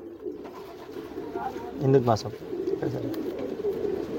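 Euro Diamond racing pigeons coo in a low, rolling murmur close by, swelling briefly midway, while someone speaks over them.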